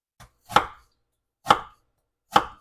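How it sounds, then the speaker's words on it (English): Three sharp knife strokes chop through half an onion on a cutting board, each a crisp close thunk spaced about a second apart, with no talking. "I have about half that onion. And I'm just going to chop up."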